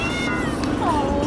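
A cat meows inside a carrier kennel during a car ride to the vet, one drawn-out, fairly close cry over a steady road hum, followed by a shorter second call.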